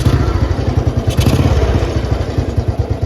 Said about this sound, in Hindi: इंजन तो इसका स्टार्ट हो गया